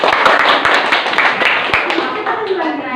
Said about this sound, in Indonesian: kita kasih tepuk tangan yang banyak